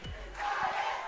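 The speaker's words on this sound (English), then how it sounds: "Back on ISD, the Issaquah fans cheering." Crowd of fans at a high school basketball state semifinal between Issaquah and Eastside Catholic cheering and yelling, a brief roar of massed voices heard at moderate distance.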